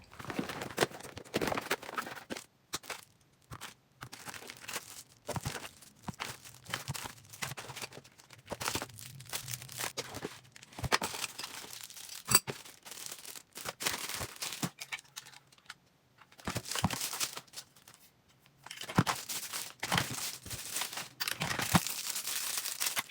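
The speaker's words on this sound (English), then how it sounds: "Let's unwrap this stylish and modern 31-inch wall sconces" Battery-operated 31-inch wall sconces being unwrapped from their packaging, with repeated crinkling, rustling and tearing bursts broken by short pauses, close by and without speech.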